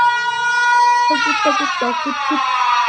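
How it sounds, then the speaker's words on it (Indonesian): A steady, droning siren wails throughout, loud and sustained, while a voice cries or speaks in short bursts underneath partway through. "suara sirine tiba-tiba terdengar dari arah luar pelabuhan"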